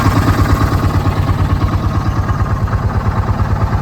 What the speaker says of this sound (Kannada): ಹಿಂದೆ ಕಡೆ ಇನ್ನೊಂದು ಬೋಟ್ ಬರ್ತಾ ಇದೆ ಅಲ್ಲಿ